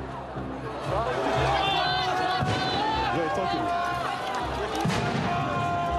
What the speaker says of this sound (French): Les policiers repoussent la foule pour la disperser.